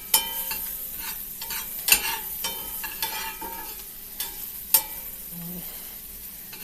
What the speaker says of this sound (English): I'm going to saute this mushroom as the pan is cooling down a little bit.